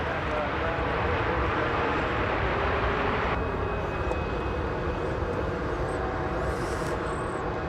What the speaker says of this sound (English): I spy with my big lens here Alaska Flight 543. It's off to Seattle. It's a 737-800